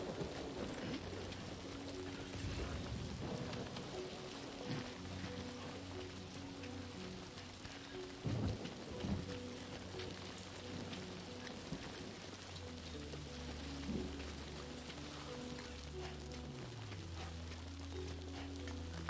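Steady rain hisses across the surface in the video game Death Stranding 2, a constant dense patter under a low droning musical score, with a few faint knocks and no voices.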